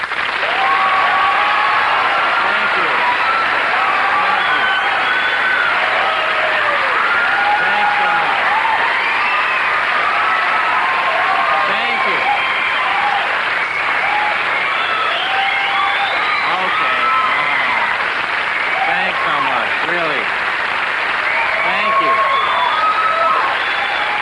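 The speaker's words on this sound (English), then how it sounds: "You don't want to applaud that much, really." A television comedy studio audience applauds loudly and steadily for about twenty-four seconds, a dense wash of close clapping with no break.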